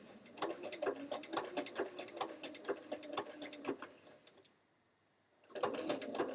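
A domestic sewing machine stitches a quilt block in rapid, rhythmic ticking bursts, pauses briefly for about a second, then starts up again at a close, steady level.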